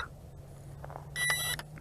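A short, high electronic beep rings out clearly over a low steady hum from an RC136FGS brushless GPS FPV drone after landing with motors shut off, preceded by a few faint clicks and chirps.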